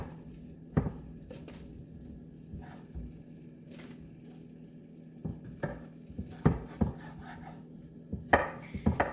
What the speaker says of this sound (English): I'm going to cut this sausage up